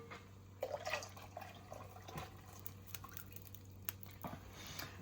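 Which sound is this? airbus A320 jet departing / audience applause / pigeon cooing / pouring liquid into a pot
pouring liquid into a pot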